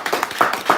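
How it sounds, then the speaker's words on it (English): A few people clapping briefly in a podcast studio, a handful of quick, close hand claps in an uneven burst lasting under a second. "Let's clap it up for him real quick"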